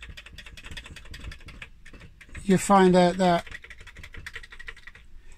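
Commodore Plus 4 keyboard keys pressed in a steady run of light, quick clicks, close and moderately loud, with a person speaking briefly over the typing midway.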